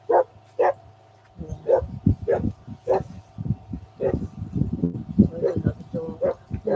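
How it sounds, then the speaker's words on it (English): A dog barks in short repeated yelps early on, then continues intermittently beneath someone talking steadily outdoors at a wilderness gathering. "Another dog."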